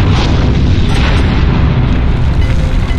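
A tank's fuel tank exploding after a hit in the video game Heroes & Generals, a sustained loud, dense roaring blast that fills the whole moment without letup.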